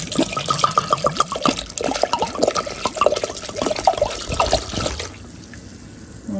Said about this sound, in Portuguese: Vou colocar 1 litro de vinho